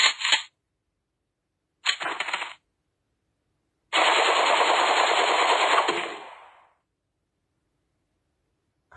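Rifle gunfire in the Henry Stickman video game comes in three loud, close bursts of rapid shots: two short bursts, then a longer sustained volley of about two seconds that trails off.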